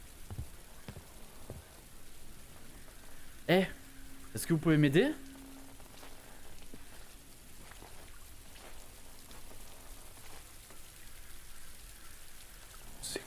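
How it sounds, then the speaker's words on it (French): Soft, steady rain falls throughout the misty village of the horror game I'm Counting to 6, a faint continuous patter with a brief spoken question partway through. "J'adore le bruit de la pluie. Il est trop agréable à entendre."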